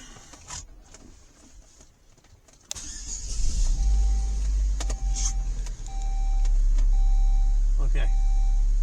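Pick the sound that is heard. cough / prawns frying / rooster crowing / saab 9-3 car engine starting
saab 9-3 car engine starting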